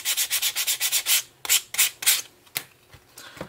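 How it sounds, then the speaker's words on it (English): Sandpaper is rubbed to remove stray paint from the edge of a decoupage napkin coaster, a quick run of close rhythmic scrubbing strokes, then a few slower, separate rubs. "Just gonna sand that right off."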